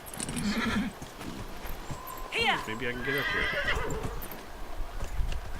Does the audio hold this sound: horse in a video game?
yes